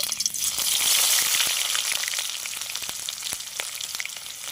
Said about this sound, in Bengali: তেলের ওপরে জিরেটা ফোড়ন দিয়ে নেব পেঁয়াজটা দিয়ে নেবো